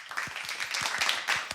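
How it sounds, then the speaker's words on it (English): Audience applause welcoming a guest onto a talk show set, a short burst of scattered claps at moderate distance, fairly quiet and without talk. "give a big round of applause for Miss Cassandra More."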